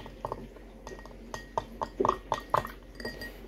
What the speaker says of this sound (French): faut encore touiller un peu